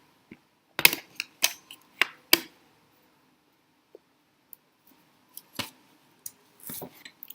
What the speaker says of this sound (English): So let's trim the paper, and I'm using a paper cutter